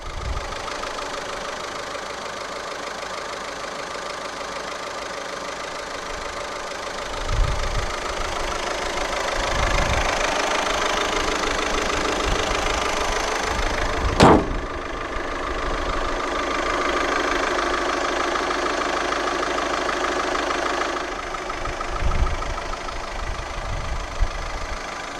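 A 2014 Audi A1 Sportback 1.6 TDI 105 diesel idles steadily close by, its even, slightly knocking hum continuing for the whole stretch, with a few low thumps and one sharp click partway through.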